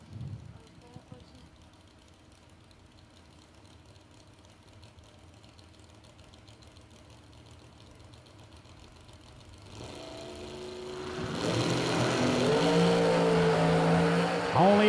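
Two drag race cars launch in a semifinal run of a 32-car shootout at the K&N Spring Fling, engines idling low under a commentator's voice before a loud, rising roar of acceleration takes over.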